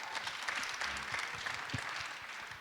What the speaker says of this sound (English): But let's give Cassey a big round of applause as well.